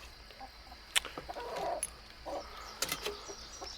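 A few chickens cluck softly and scratch around a smaller chicken in a backyard pen, with brief wing flaps and scattered pecking sounds at low volume and no talk.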